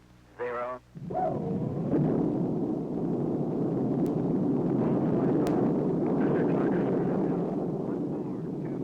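Gemini 3 Molly Brown spacecraft rocket launch: after a brief voice and tone at the start, a loud, sustained broadband roar rumbles on steadily through the rest of the clip.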